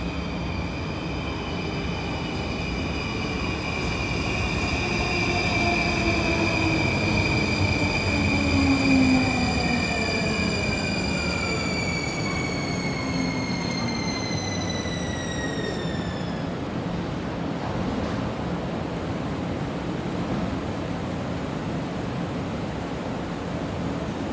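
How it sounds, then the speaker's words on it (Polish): A Skoda Varsovia metro train on the Warsaw Metro rumbles loudly through the underground toward Młociny, wheels squealing in high, sliding tones that rise and fade as it passes, over a constant roar of rail noise. "Jedzie Skoda Warszawia na Łociny."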